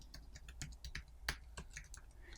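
Quiet tapping of keys on a computer keyboard while a web address is typed, a handful of light, uneven clicks close to the microphone.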